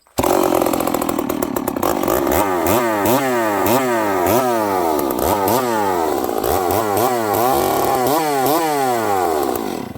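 A ported Stihl 038 Magnum chainsaw with a freshly hand-filed chain runs loud and close for the whole stretch, its engine repeatedly revving up and dropping back in a steady cycle of rising and falling whines.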